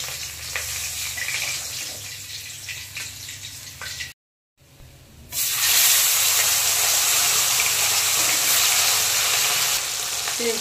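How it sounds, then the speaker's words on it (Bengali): Bata fish frying in hot oil: a steady sizzle and hiss, softer in the first part, a brief silent cut, then a louder, dense, continuous sizzle that holds to the end. "এইভাবে সব মাছগুলো ভেজে নেব"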